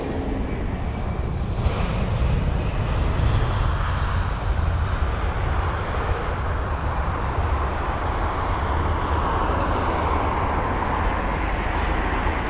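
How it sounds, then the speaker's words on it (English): Airbus A320ceo airliner at London Heathrow, a loud, steady jet engine roar holding throughout with broad rushing noise and no talk. "Got the A320 CEO here."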